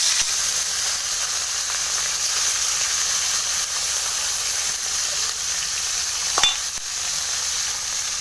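Fish pieces rubbed with salt and turmeric fry in hot oil, giving a loud, steady, hissing sizzle that runs the whole time, with one brief clink near the end.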